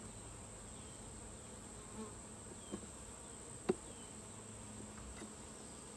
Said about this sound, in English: Definitely seems to be a lot more bees too